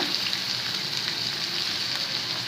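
A steady, even sizzle of onions sautéing in a hot pan, close and continuous with no pauses.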